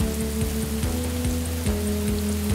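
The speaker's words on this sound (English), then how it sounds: "we need to get out of this acid rain" Cartoon sound effect of acid rain falling on Venus, a steady hiss of rain under a looping, rhythmic synthetic tone pattern, continuous and fairly loud.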